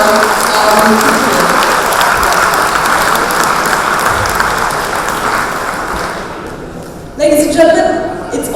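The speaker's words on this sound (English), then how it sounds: "Can you please have a huge round of applause for all of our army people." Loud, sustained audience applause at a welcome dinner for an army cultural dance troupe, dense clapping that fades slightly before a brief burst near the end.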